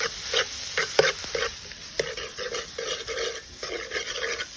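Tomatoes stir-fried in a pan for fried rice, a busy sizzle broken by repeated scraping and stirring strokes of a spatula, close and uneven, with no speech.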